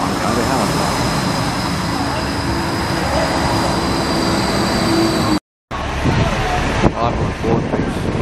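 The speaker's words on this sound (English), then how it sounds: "Okay, a tram's coming in." A Gold Coast tram pulls into the Broadbeach South stop with a steady, loud rolling rumble and rail noise, a brief cut midway, then bumps and clatter as it settles.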